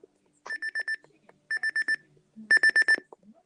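A Sangean CL100 alarm clock beeps in three bursts of four rapid electronic beeps each, close and clear, getting louder with each burst.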